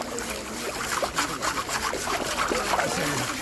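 Gravel scrapes and grinds around an old steel gold pan in a creek, a rough rasping swirl with repeated gritty strokes, close and fairly loud, with water sloshing faintly beneath.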